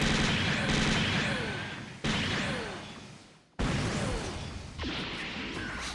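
Long-range weapon in the SDGO mecha video game firing rapid bursts, with loud blasts and whooshing shots that cut in abruptly and decay in several sweeping waves, with no voice over them.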